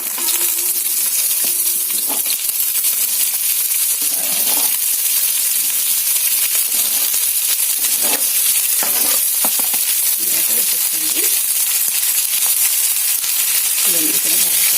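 Chopped ingredients frying and being stirred in a pan, a steady bright sizzle running throughout with intermittent scraping and clinking of the spoon against the metal, close and fairly loud, with no talking.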